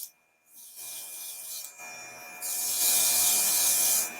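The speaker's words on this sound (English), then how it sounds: "And now I'm going to airbrush." An airbrush sprays foundation makeup onto a face, starting at the forehead. It makes a steady close hiss in two sustained bursts, the second louder, after a brief quiet start.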